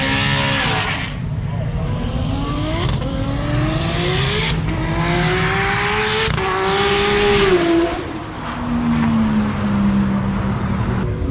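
A roll racing car at a Sydney 2024 nationals event accelerates past with a loud, rising engine note that climbs through the gears and then drops as it pulls away, with a voice talking over the engine.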